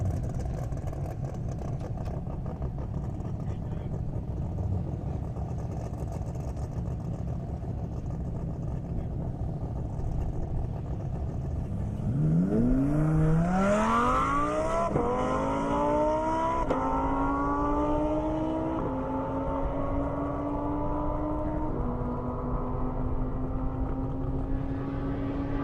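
A Toyota Supra and a Lamborghini drag racing down an airport runway at the Indy Airstrip Attack half-mile event, engines rising in loud sweeping upshifts as they tear away, the roar fading into the distance with no voices.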